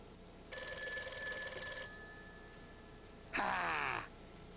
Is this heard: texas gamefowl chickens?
no